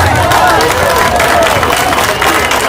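Spectators at a youth baseball game applaud and cheer, a dense wash of clapping and crowd noise with voices mixed in.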